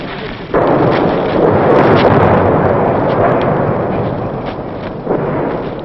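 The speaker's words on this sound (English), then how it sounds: "Their own artillery pounds the area around the men, as close as 100 yards." Artillery shells burst around infantry on Hill 943 in 1967, a loud heavy explosion followed by rolling booming and rumbling, with a fresh blast near the end.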